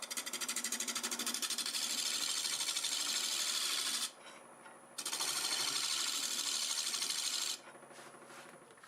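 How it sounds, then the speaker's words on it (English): A negative rake scraper rides on wood spinning on a lathe, giving a loud, rapid buzzing chatter that runs for about four seconds, drops to a quieter motor hum, returns for another stretch and then falls quiet again. "it's time to use the negative rake scraper on this."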